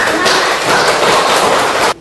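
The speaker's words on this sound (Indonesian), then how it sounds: "Memberikan tepuk tangan dulu buat kelompok 1" Classmates in a classroom applaud a group presentation, a steady crowd of claps that stops abruptly near the end.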